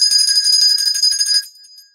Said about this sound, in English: If you keep on ringing that bell